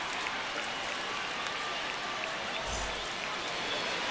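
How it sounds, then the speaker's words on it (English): A virtual ballpark crowd in MLB The Show 25 keeps up a steady, broad wash of cheering and applause before an Opening Day game, constant and fairly distant, with no voices on top. "The crowd is amped up, ready to get this season underway"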